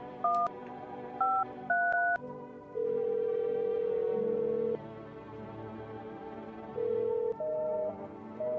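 Telephone keypad tones beep in a video game: a few quick dialed digits, then a long steady tone followed by two shorter ones, all clear and up close over a low background hum, with no talking.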